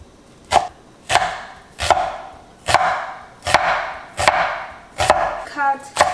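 A knife chops half of a small onion in about eight evenly spaced, sharp strikes, each a crisp close thud followed by a short ringing decay.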